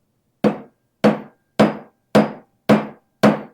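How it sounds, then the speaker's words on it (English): Six sharp metallic hammer blows riveting a set of blacksmith's tongs together, struck at an even, unhurried pace about half a second apart, each ringing briefly before the next, loud and close with no talk. "we are going to rivet these tongs together."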